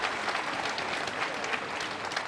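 A crowd at a snooker semi-final at the 2024 Hanoi Open applauds a shot with steady, dense hand-clapping that fills the whole moment at an even volume.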